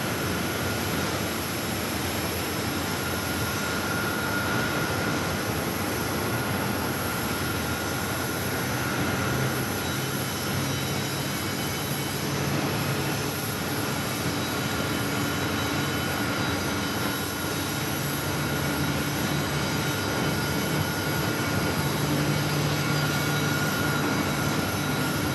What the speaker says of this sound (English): That SkyWest CRJ 900LR heading to St. George